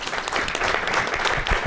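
Short burst of audience clapping at a book presentation, a close, busy patter of many hands.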